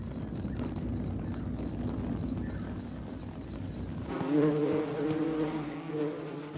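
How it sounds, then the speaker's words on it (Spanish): Honeybees buzz steadily throughout, a dense droning hum of many insects in flight, growing a little louder and more tonal toward the end. "las abejas volvieron volando a la colmena para reunir más obreras"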